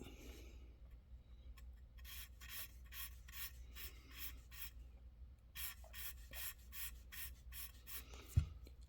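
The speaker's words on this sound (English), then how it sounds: "this is really nothing more than you'd be doing if you were smoothing a nib out on your own" A fountain pen nib being ground into an architect grind and smoothed, faint close scratchy strokes in short bursts with pauses, quiet and without speech.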